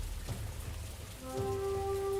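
Rain falls as steady wet hiss in a turn-based fantasy strategy game, a soft continuous patter that swells slightly near the end as a sustained musical tone enters.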